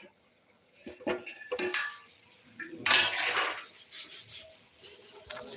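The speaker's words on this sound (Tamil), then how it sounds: "பொரியலை கொஞ்சம் பெரட்டி விட்டுக்குவோம்" A spatula scrapes and clatters against a pan while vegetable poriyal seasoned with salt is stirred, giving irregular bursts of metal scraping and knocks, close and moderately loud, with no talking.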